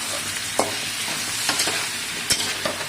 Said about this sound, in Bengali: পটল আলুটা ভেজে নিচ্ছি নুন হলুদ দিয়ে